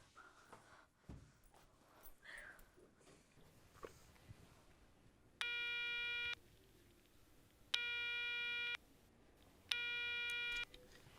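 A call to a hotel reception desk goes unanswered, heard from the caller's end: three long electronic ring tones with pauses between them, fairly loud over quiet room noise, no talking.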